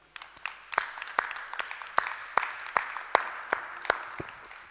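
A church congregation claps in steady rhythmic unison during worship praise, the loud sharp claps echoing in a large hall with a murmur of voices underneath.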